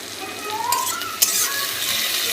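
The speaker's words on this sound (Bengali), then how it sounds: "আদা রসুন ও টমেটো পেঁয়াজ ভালো করে কষিয়ে নেব" Onion, tomato and ginger-garlic paste sizzle and fry steadily in a pan, with a continuous close hiss, faint scraping from stirring and a brief clink of a utensil partway through.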